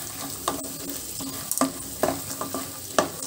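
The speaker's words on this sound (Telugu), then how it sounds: "ఇందులోనే 1 కప్పు పుట్నాల పప్పు కూడా వేసి వేయించుకుందాము స్లో ఫ్లేమ్ లో మాడకుండా వేయించుకుందాము" Roasted gram dal frying on a slow flame for a Rayalaseema puffed rice masala mixture gives a steady close-up sizzle, broken by sharp scraping and clinking stirs at irregular intervals.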